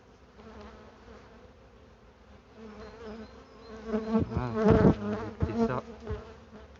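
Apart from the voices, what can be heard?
Carpatica honeybees buzzing around hive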